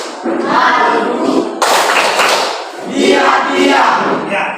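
A classroom group plays the Tepuk Nusantara rhythmic clapping game, with loud bursts of many hands clapping in patterned sequences broken by short pauses, under and between children's chanted voices.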